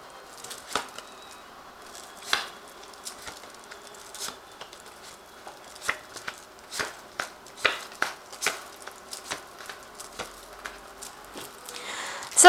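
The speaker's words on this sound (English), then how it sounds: "I have shuffled this deck." A Rackham Tarot deck being shuffled by hand gives a quiet, irregular run of crisp card slaps and riffles, spaced through the clip with short pauses and a sharper burst at the end. No one speaks.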